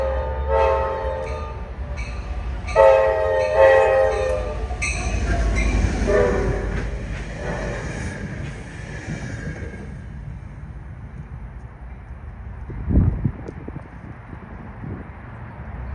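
A Trinity Railway Express commuter train rolls along the track with a loud horn blast and rumbling wheels, then passes and fades into a quieter steady roll with a brief clank near the end, no voices.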